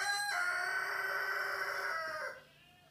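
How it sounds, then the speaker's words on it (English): A rooster crows once in a long, loud, drawn-out call close by, ending abruptly into quieter background. "And then this chicken, he come and stand here."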